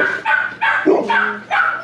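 A dog barks five times in quick succession, close and loud, with short sharp yapping calls spaced roughly evenly and a quiet gap between each.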